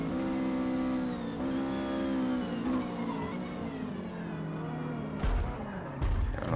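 A Renault 8 Gordini in Forza Motorsport, D class at the Nürburgring, revs its engine loudly with rising and falling tones through shifts, ending in sharp collision thumps.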